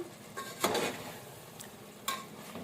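Fried jackfruit pieces are stirred gently in oil in a pot, with a soft sizzle under a few sharp scrapes and clinks of the spoon against the metal.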